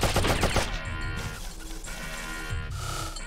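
Video game gunshots hit in a loud, rapid volley at the start, then give way to a denser wash of crashing game noise that swells again near the end.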